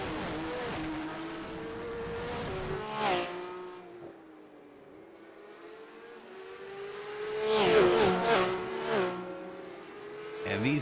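Porsche Cup race cars in a sim racing game, engines revving and shifting through fast corners, rising and falling in pitch, with a commentator talking over them throughout.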